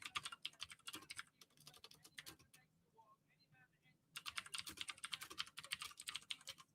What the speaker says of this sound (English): I need to get a new keyboard. It's way too loud.